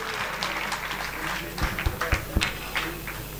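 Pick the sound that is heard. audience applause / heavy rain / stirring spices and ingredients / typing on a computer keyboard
audience applause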